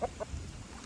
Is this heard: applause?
no